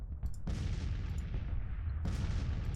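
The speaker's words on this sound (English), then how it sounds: "The fire is dying down, except for the cannon fire." Cannon fire booms in the Civil War strategy game Grand Tactician, giving a heavy continuous low rumble of distant battle with a few sharper reports rising over it.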